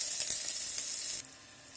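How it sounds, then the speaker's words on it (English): Chopped onion frying in an electric kettle while vermicelli upma is being made, giving a steady bright sizzle that drops to a quieter hiss partway through, with no voices. "Allow the onion to cook till they turn light golden color."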